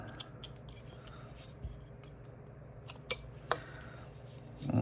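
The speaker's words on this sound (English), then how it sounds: "Little V-tool. I'm going to do a stop cut here." A V-tool making a stop cut in wood during carving, faint short scraping and snipping strokes, a few sharper ticks near the middle, close and quiet against a soft background hum.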